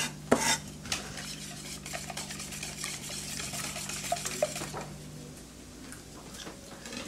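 Small bacon pieces tipped and scraped into a bowl of mayonnaise and stirred, giving soft wet clinks and scrapes of a utensil against the bowl over a steady low background hum, with no talking.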